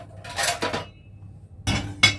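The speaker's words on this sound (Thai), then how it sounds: "โอเคก่อนอื่นเรามาทุบกระเทียมก่อน" Garlic cloves being smashed for kimchi fried rice, giving a few sharp knocks and clattering impacts on a kitchen board with short gaps between them, close and fairly loud, with no talking.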